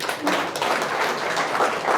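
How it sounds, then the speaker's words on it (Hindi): An audience at a speech breaks into applause, a thick, sustained wash of many clapping hands held at an even level throughout. "ताली बजा दीजिए उनके लिए एक बार"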